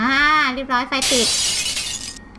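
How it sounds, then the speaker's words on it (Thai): A glass window shatters in a Thai-made horror video game: a loud, sudden crash of breaking glass that trails off in tinkling debris, with a voice talking just before. "อุ้ยกระจกแตก"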